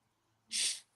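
A single sharp sneeze from a person bursts out close and loud, a quick hissing blast lasting about a third of a second after a quiet intake of breath.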